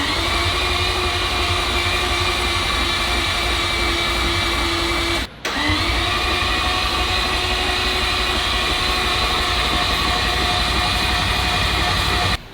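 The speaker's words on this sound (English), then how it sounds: "We're gonna try to start it already." A Mazda RX7 four-rotor engine cranks without catching, a steady loud whirring starter drone that runs unbroken, with one brief interruption midway and a cutoff right at the end.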